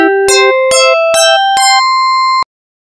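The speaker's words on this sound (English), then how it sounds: "at higher key ranges, it gives a kind of bell-like sound" FM synthesizer bell-like tones with the modulator at three times the carrier, five bright struck notes stepping upward in pitch at an even pace, each ringing briefly, loud and clean with nothing else heard, ending in a short final strike.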